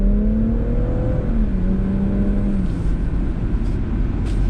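BMW 440i Gran Coupe accelerating on a public street, a loud steady engine note rising in pitch, then dropping and climbing again as it pulls through a gear change, heard from inside the car.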